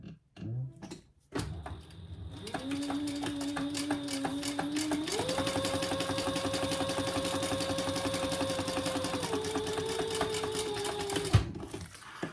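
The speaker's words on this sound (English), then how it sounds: "we're going to flip that up and top stitch" A sewing machine runs steadily for about ten seconds while top stitching a pocket piece on a purple Theratex garment. It keeps a fast, even mechanical whir with a slight shift in pitch midway, after a few brief handling knocks at the start.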